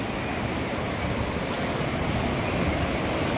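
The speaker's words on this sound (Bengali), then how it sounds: "এখান দিয়ে জল, এইখানে সব জল যাচ্ছে।" Water of the river at Jogighat rushing under the bridge, a dense, steady roar close by, with no breaks or voices, just the constant hiss and rumble of fast flow.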